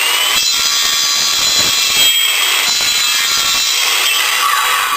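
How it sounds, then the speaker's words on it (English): A circular saw with its guard held back scrapes and carves into wood, a loud continuous high whine with rough grinding texture and small surges, steady throughout with no speech. "the tool I learned to carve on was the circular saw, believe it or not"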